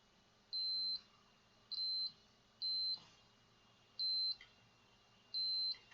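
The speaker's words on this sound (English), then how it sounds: "I'm going to put this in continuity test just to check these quickly so I can hear" A multimeter in continuity-test mode beeps five times at uneven intervals, each a clear, steady high tone lasting about half a second, while an amplifier board is probed in a quiet room.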